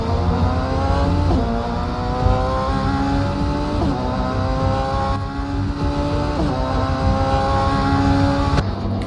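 Race cars circle the track at the Grand Prix of Trinidad in the Caribbean Motor Racing Championship, with loud, continuous engine whine rising in repeated upshift sweeps as the cars pass close by.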